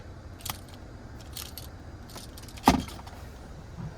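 A Toyota Tundra key fob jangles on its ring inside the 2023 Tundra Hybrid Capstone cabin, with brief metallic clinks and one sharper rattle near the end, close and fairly quiet with no talking.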